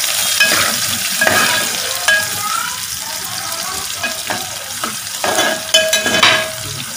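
Garlic crackles and sizzles in hot oil over a medium flame, a continuous close fizz with intermittent scrapes and clinks of a spatula stirring the pan.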